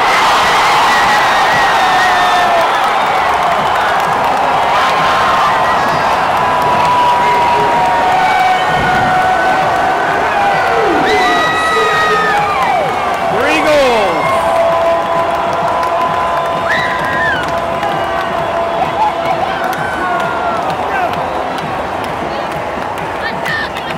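Loud stadium crowd at an Inter Miami CF home soccer match against Sporting KC during a second-half corner, a sustained roar with cheers, whoops and shouts rising and falling throughout, with voices heard in the crowd.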